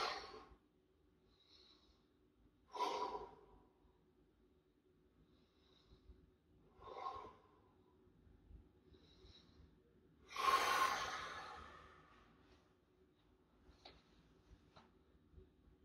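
Deep breaths during a stress-relief stretching exercise, a few separate breathy inhales and exhales spaced seconds apart, with one louder, fuller rush of air near the middle, close and quiet with no talking.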